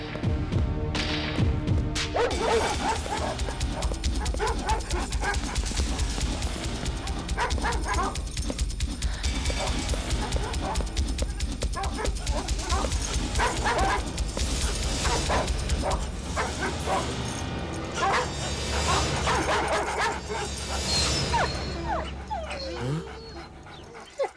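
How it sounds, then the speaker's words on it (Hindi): Dogs bark and yip continuously, set loose to chase a man in a dubbed Telugu action film, loud excited barking mixed with thumps and dramatic music throughout. "इसके पीछे कुत्ते छोड़ो।"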